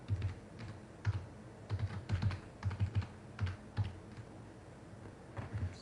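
A computer keyboard gets typed on in irregular clusters of crisp keystrokes with short pauses between bursts, close and fairly clear, no voices.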